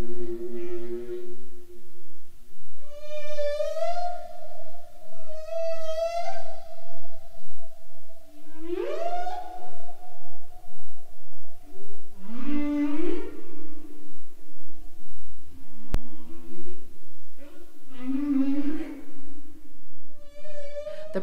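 Humpback whale calls of the kind made on breeding grounds: loud, long tonal moans and rising whoops, repeated in a slow sequence over steady underwater background.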